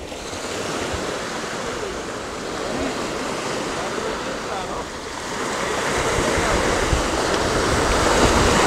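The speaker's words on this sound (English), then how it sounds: "Really nice beach." Ocean waves washing onto Cas Abao Beach on Curacao, a continuous broad roar of surf with wind buffeting the microphone, swelling louder toward the end, with no voices.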